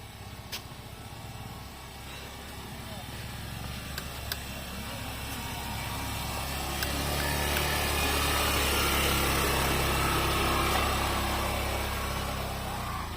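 A motorbike engine drones and labours steadily straining uphill on an off-road trail, its revving rising and growing louder, with no voices over it.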